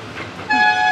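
A toy train ride at the Chennai Rail Museum sounds a loud, steady horn toot that begins halfway through, over the low rumble of the running train, close and alone without talk.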